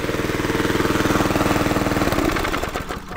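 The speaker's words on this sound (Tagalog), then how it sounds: "Tayo na natin yung makina" A farm engine in a cabbage field, running with a rapid, steady mechanical chug loud and close, then its beat loosens and slows as it settles toward the end.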